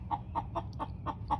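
Three hens in a backyard chicken run with a coop cluck in a steady close series of about six short, evenly spaced calls, clear and fairly loud with no talking.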